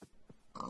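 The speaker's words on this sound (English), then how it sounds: "Pigs." A pig in a Minecraft-style game (Rockycraft) gives a few short oinks and snorts, close and fairly quiet, in brief separate grunts, with no talk.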